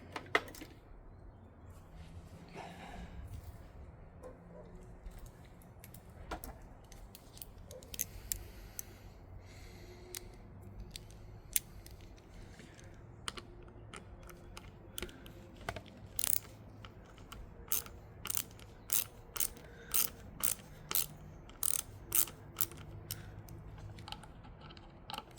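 Small screws being worked loose from a side panel on a Honda GB350C motorcycle, quiet scraping and handling early, then a run of sharp, close, evenly spaced ratcheting clicks in the second half.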